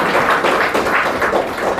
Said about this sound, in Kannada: ಒಂದ್ಸಲ ನಿಮಗೂ ನೀವು ಜೋರಾಗಿ ಚಪ್ಪಾಳೆ ಹಾಕ್ಕೊಳ್ಳಿ